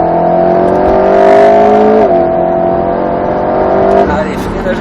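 Alpine A110 S sports car engine pulling hard on the Grand Sambuc race circuit, a steady loud drone with a pitch dip near the middle before climbing again, heard up close from the cabin with people talking over it.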